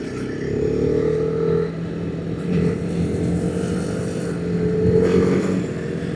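A TVS Apache RR 310 motorcycle ridden at high speed, its engine a steady loud drone with rising and falling pitch and wind rush, heard close from the rider's position with no talking.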